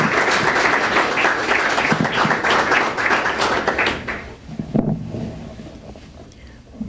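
An audience at a lecture gives loud, continuous applause to welcome the speakers for about four seconds; it then thins out and dies away, leaving room noise and a brief voice.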